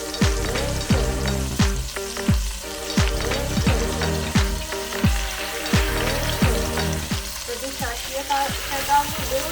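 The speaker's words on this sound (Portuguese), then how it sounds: "Deixa derreter um pouquinho e já vamos começar a selar a carne" Fat-side-down pork loin sears in a hot pan, sizzling and popping continuously under repeated scraping and stirring sounds, close and fairly loud, with quiet talking now and then.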